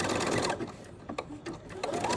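A Janome 500E sewing machine stitches a placemat, its steady mechanical whirr running close and continuous, briefly easing and resuming as the fabric is pushed along.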